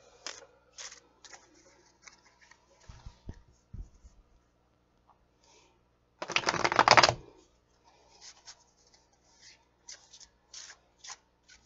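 Tarot cards are handled in a quiet room: soft flicks and slides of cards being pulled, one burst of riffle shuffling in the middle, and scattered light card snaps near the mic.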